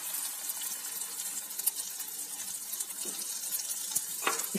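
Crushed peas hit hot ghee in a pan, giving a steady soft sizzle and crackle with a few louder pops of stirring near the end, no voices.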